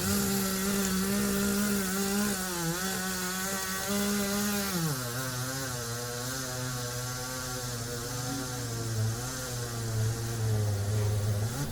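A chainsaw engine drones steadily while cutting down a tree, its pitch dipping and bogging down as it bites into wood, then holding lower, continuous and fairly close.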